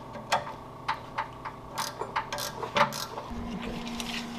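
A hand ratchet clicks in short bursts while tightening bolts on a Jeep sway bar, the crisp metallic ticks close and fairly quiet, with no talk.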